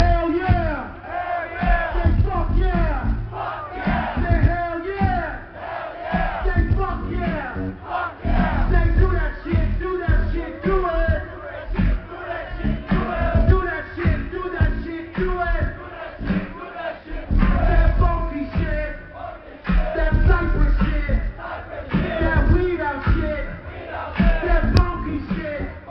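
A festival crowd at a Cypress Hill show in Belo Horizonte, Brazil, roars, shouts and cheers loudly and continuously for the whole stretch, a dense wall of massed voices with no break.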